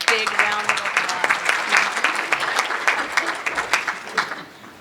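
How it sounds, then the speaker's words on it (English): An audience at an event at the United Nations claps in a dense, sustained burst of many hands, steady and fairly loud before tapering off at the end. "So let's give Lynn a big round of applause."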